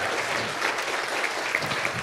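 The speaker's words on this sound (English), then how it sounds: "Can we just give one more round of applause to our panel for sharing these thoughts?" Audience applause for a panel at a Sunrise Movement event in Asheville, a steady, dense wash of clapping from a crowd that holds at an even level throughout.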